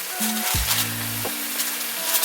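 A Japanese-style rice burger sizzles in a pan. A steady crackling fry runs under brief scraping clatter from a spatula flipping it, with no voices.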